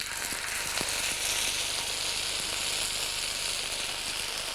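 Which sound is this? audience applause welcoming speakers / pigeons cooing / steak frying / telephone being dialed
steak frying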